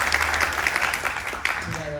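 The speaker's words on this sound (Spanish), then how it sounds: "por favor un aplauso" Steady, close applause from an audience at an academic presentation on moisture retainers for water deficit, continuous rapid clapping throughout with a voice briefly audible near the end.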